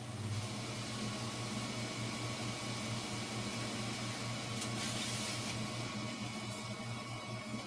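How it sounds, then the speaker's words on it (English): An air conditioner runs indoors with a steady, even whooshing hum of fan and compressor that never changes in level, with no other sound over it. "I'm gonna turn off my air conditioner too."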